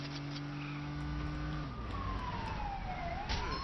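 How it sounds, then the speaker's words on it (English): Police car siren wailing in the open-world city of the Lego The Incredibles 2 video game, a steady rising and falling electronic tone that runs loud and continuous throughout without any talk. "everywhere I turn, there's a police car with a siren on"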